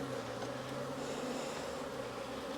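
Honey bees swarm around an opened beehive on a humid day, a dense, continuous buzzing hum close by and steady throughout, with no voices.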